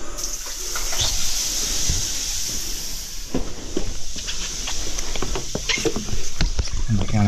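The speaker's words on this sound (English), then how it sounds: "That's the shower." Steady shower water spray running into a blocked drain throughout, with scattered splashes and taps over the flow; a voice is briefly heard.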